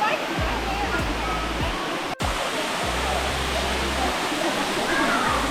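A waterfall at Hanging Rock State Park roars in a loud, steady broadband rush close by, with low thumping wind-like bumps on the microphone.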